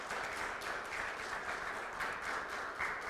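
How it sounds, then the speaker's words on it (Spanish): A church congregation applauds at a Sunday worship service, producing a dense, even wash of many hands clapping together. It sounds soft and somewhat distant and continues without a break. "Démosle un aplauso al Señor Jesús por esa obra en cada uno de nosotros"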